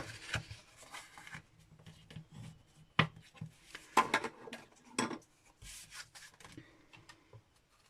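A folded paper card base is burnished by hand, making soft, irregular rubbing and scuffing strokes with a few sharper taps, quiet and close, with no speech.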